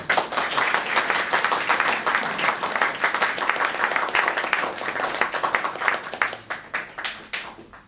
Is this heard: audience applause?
yes